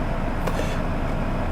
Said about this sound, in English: Doesn't even sound nice, this diesel engine either.